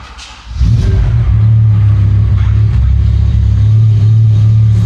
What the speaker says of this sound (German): wie der 10-Zylinder anders klingt als ein 8-Zylinder